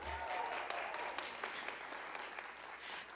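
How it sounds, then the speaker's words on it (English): Sparse, fairly quiet clapping comes from the audience at a dental hygiene pinning ceremony, scattered individual claps thinning out over a few seconds, with a low hum in the room. "it's okay if you guys want to cheer and clap"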